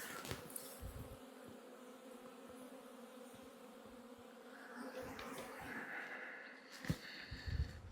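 Honeybees at a winter hive in an apiary buzz in a steady, fairly faint hum that lasts throughout, with a few brief knocks and rustles near the end.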